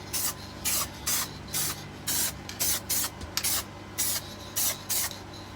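Short bursts of Pro XL Matte 1K lacquer aerosol sealant spraying onto a 3D printed action figure, about a dozen evenly spaced hisses alone and close up, with quiet gaps between them.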